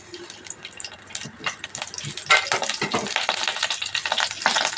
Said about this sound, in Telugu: ఆయిల్ వేడైన తర్వాత కొంచెం పచ్చిమిర్చి వేసుకోవాలి